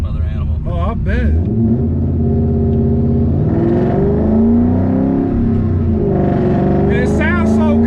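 A 2004 Ford Mustang Mach 1 with a 5-speed rumbles and revs under steady acceleration from inside the car, its engine note climbing and falling while people talk over it.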